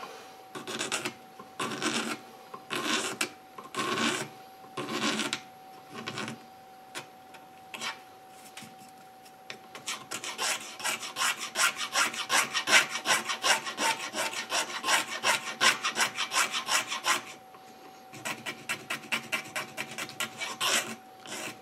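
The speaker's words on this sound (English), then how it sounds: "I'm going to hold it there and do some more scraping" Hand scraping on the stem of a Cellini Canadian tobacco pipe during restoration, close and dry: a few separate strokes, then a long fast run of rhythmic rasping that stops and resumes in short strokes.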